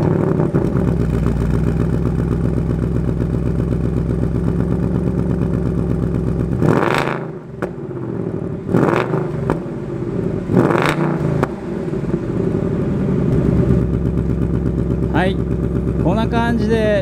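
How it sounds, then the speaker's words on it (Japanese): A 2019 Ford Mustang GT Premium Fastback with the GT Performance Package and aftermarket muffler rumbles at idle, then revs sharply in several loud bursts around the middle before settling back to a steady, close exhaust burble. "このマフラーすごくいい排気音しますんで、ちょっとエキゾーストの音聞いてみます。"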